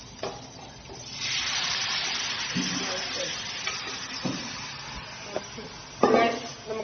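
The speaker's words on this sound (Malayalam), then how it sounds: "നമുക്ക് നേരെ ചട്ടിയിലോട്ട് തട്ടാം." Beef hits a hot, smoking pan with a broad sizzling rush that builds after a second and keeps going. Scraping and stirring knocks break in now and then, and a louder clatter comes near the end.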